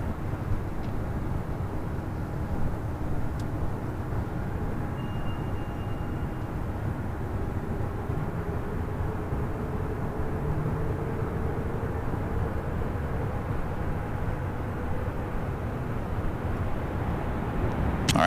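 A Korean Air Airbus A380 takes off from runway 24 left, a steady, far-off jet roar that holds level throughout with a slowly shifting engine tone.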